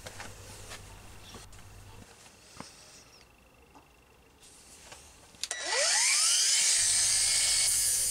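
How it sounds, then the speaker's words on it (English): An angle grinder with a 60-grit flap disc whirs up at close range and then grinds loudly against the metal of a 1960s Brades axe head with a harsh, sustained abrasive roar, after quieter handling noises. "set about cleaning it up with this 60 grit flap disc"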